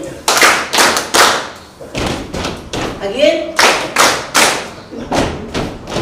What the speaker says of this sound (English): we are starting with clap for you